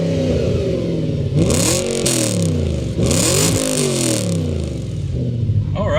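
A Ford Focus RS with an aftermarket dual exhaust revs repeatedly, the engine note climbing and dropping in two strong sweeps, loud and close, with a brief idle burble between.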